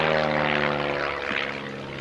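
A propeller-driven training aircraft flies past at the Shuttleworth evening air display, a loud, steady droning engine note with a throbbing prop buzz, fading slightly as it moves away.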